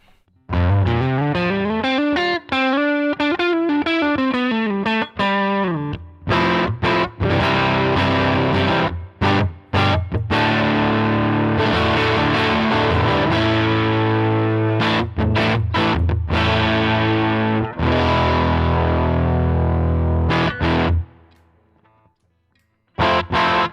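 Electric guitar played through Line 6 HX Stomp amp models, distorted chords and sliding riffs with chorus shimmer, loud and continuous with brief stops, ending in a short silence.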